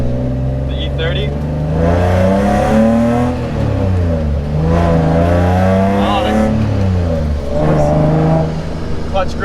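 An E30 car driven hard while drifting, its engine revving up and down in sweeping harmonic waves with surging acceleration, loud and close throughout, with occasional voices beneath.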